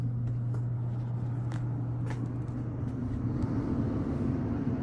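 An RV roof air conditioner with AC silencers runs on high, giving a steady low hum and airflow drone throughout, with a few faint light taps over it.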